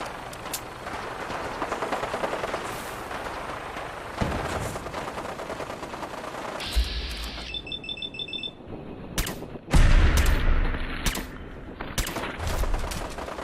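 Bursts of gunfire in the post-apocalyptic video game Fallout 4, with loud shots and rattling automatic fire over a steady background of game ambience, peaking in a heavy volley near the end.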